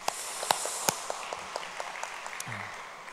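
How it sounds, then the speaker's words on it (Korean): A church congregation claps at a service, sparse and fairly distant, with a few sharp isolated claps at first and then softer, irregular patter that thins out, under faint room noise. "하나님께 영광의 박수 올려드리도록 하겠습니다."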